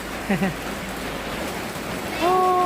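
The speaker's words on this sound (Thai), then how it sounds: "ฝนตกเรื่อยๆเนาะ" Steady rain falls outdoors as a continuous hiss of even intensity, loud and close, with brief voices rising over it near the start and again near the end.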